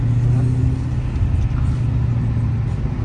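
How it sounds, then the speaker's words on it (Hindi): A car speeds along Sheikh Zayed Road, its engine and tyres making a steady, loud interior rumble that holds throughout, with a voice talking over it. "सचिन भाई देख रहे हो कैसे तेज चला रहे गाड़ी"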